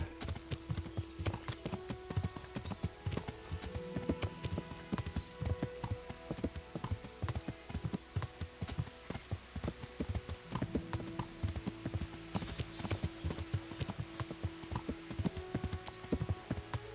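Horse hooves beating steadily while riding in Kingdom Come: Deliverance, a continuous rhythmic clip-clop at a brisk pace with occasional harness jingles, and no speech.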